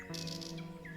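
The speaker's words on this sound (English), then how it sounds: "Hear the distant chirping of the birds" Birds chirping in the distance near a grand mansion, with a few soft, high tweets over a steady, faint background hum, quiet and continuous for about a second.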